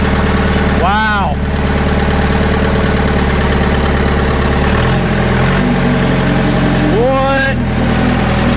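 An old forklift engine runs steadily as it drives, with a loud, close, continuous rumble and a couple of brief squealing or scraping sounds rising over it.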